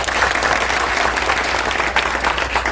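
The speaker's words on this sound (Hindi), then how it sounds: "एक बार जोरदार ताली से इनका स्वागत" Loud, dense applause from a crowd welcoming a speaker at a political gathering in Bihar, continuous and evenly sustained throughout, with no clear speech over it.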